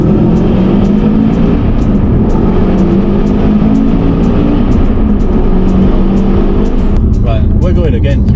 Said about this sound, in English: we're going to drop it second gear, come in boost, and as we go through the tunnel